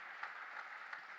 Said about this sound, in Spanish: Dele un fuerte aplauso a él.